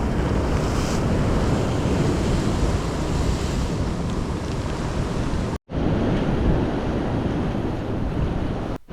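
Sea waves and wind on a beach in rain, a loud, continuous roar of surf and gusting wind buffeting the microphone, with a momentary cut partway through.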